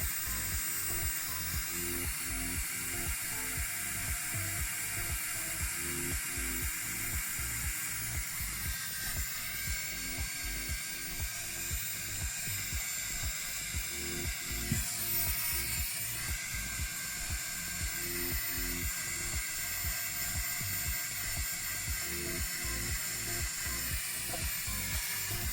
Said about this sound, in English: This fan has 3 levels of airflow output.